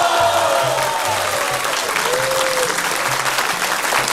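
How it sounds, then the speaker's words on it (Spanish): A studio audience on a Spanish-language television talk show applauds steadily for several seconds, a dense even patter of clapping with faint music underneath. "Desde aquí, nuestros aplausos."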